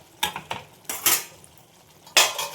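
A spoon gently stirs fish curry thickened with cashews in a pan, giving a few soft, separate scraping and clinking strokes against the metal, close and fairly quiet, with no voices.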